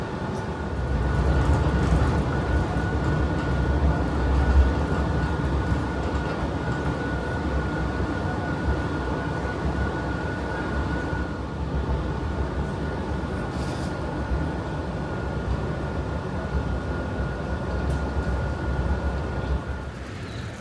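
Steady low rumble of a metro train in motion in Barcelona, with a constant hum and rattling throughout, heard from inside the carriage.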